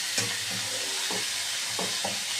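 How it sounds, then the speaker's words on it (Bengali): Chicken pieces fry with spices in a pan for yakhni pulao, giving a soft continuous sizzle broken by a few dull scraping stirs, with no talk. "এবার চিকেনগুলোকে সব মশলার সাথে ভেজে নেব।"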